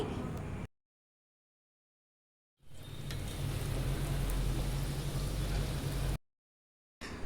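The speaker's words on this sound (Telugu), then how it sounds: "మమ్మీ అయితే ఆయిల్లో వేస్తుంది, అత్త అయితే వాటిని ఫ్రై చేస్తుంది అనమాట" Sankranti snacks frying in hot oil give off a steady, close hissing sizzle, broken by abrupt silent gaps.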